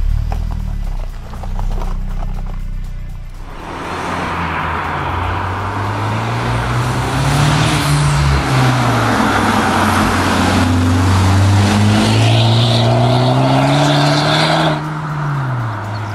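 A Honda Civic Type R engine runs close by, rising and falling through several revs in a steady, loud drone that lasts the whole stretch.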